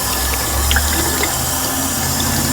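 Tap water runs hard into a kitchen sink while raw chicken is rinsed under it, a loud continuous close-up rush with slight splashing changes and no talking.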